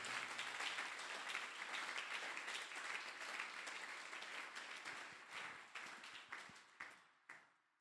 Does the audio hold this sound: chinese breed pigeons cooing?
no